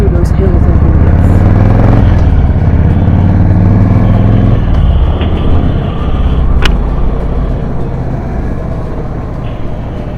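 A motorcycle rides through the Champagne vineyard hills near Verzenay and Reims with steady close engine noise and wind rumble. The engine pitch shifts as the ride goes on, and a person speaks over it.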